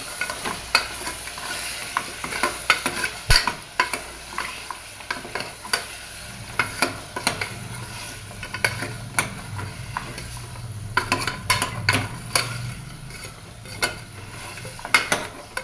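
Paya soup base of onion and oil sautéed in a pan, a steady close sizzle with frequent clicking stirs and scrapes of a utensil throughout, no talking.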